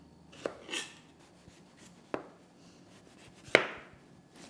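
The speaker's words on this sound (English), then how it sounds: "now I'm just going to slice off the skin" A knife cutting the skin off a celeriac, a few sharp close chops and scraping strokes spaced apart, with quiet gaps in between.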